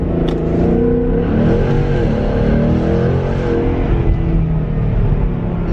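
A loud car engine revs steadily in first gear, a continuous throaty roar that holds for several seconds with slight rises in pitch, close and dominant with no talk over it.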